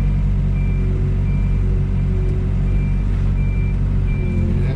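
A heavy excavator climbs a ramp onto a trailer, a loud steady diesel engine rumble drowning most else, with faint intermittent tonal beeps repeating in the background.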